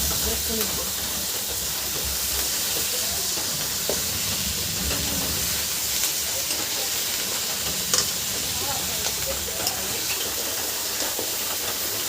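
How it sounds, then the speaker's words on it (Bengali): Crab stalks sauté in spiced oil in a pan, giving off a continuous, even sizzle and hiss with faint stirring scrapes mixed in. "মশলাগুলো হালকা হালকা তেল ছেড়ে দিয়েছে ডাটাগুলো আমি সব দিয়ে ভালোভাবে মাংসের মতো করে কষিয়ে নেবো"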